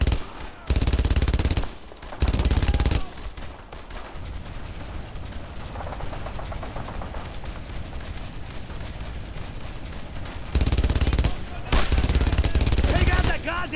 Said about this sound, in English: I want heavy fire on that MG.